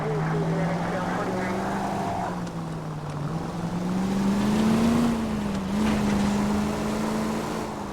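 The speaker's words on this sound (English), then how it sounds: "That's a plane." Propeller plane droning overhead in the 1940s Los Angeles setting of L.A. Noire, a steady loud engine hum with slowly shifting pitch as it passes, under game ambience and quiet talk.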